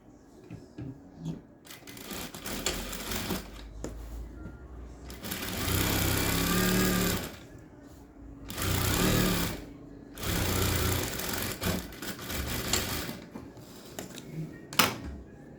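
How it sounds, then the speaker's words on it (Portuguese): A sewing machine stitches a seam on a women's shirt in several close bursts of rapid mechanical whirring, separated by quieter pauses with small handling sounds. "Ó, vou costurar mais de 1 centímetro."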